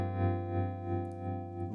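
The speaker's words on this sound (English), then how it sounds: "Really, really beautiful analog tremolo sound." A sustained electric guitar chord runs through a Chase Bliss Gravitas analog tremolo pedal at medium rate, its volume swelling and dipping in a slow, even pulse of about three cycles, played alone.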